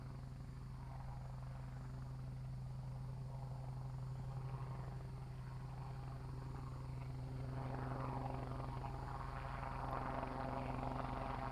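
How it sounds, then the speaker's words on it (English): A helicopter drones steadily in the distance near Launch Complex 39A at Kennedy Space Center, its rotor and engine hum continuous and unchanging throughout, with no one talking. "can hear that helicopter in the background."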